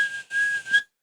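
A human voice imitates a whistling nose with a steady, thin, high whistle held for most of a second, briefly dipping partway, then a short faint chirp after a pause.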